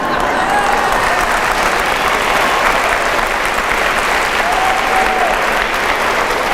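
Audience at a talk by a priest breaking into continuous, dense applause, loud and even throughout with no pauses.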